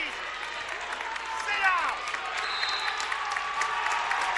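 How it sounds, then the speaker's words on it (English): A sellout crowd cheers and applauds steadily at a high school basketball game in the Scholl Center, a roaring wash of noise in the background under continuous play-by-play commentary. "now this sellout crowd at the Scholl Center getting into it"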